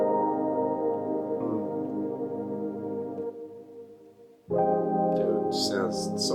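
Layered RnB synth pad chords with a sustained, stacked harmonic tone, fading and dipping before a fuller chord swells back in with brighter high accents near the end.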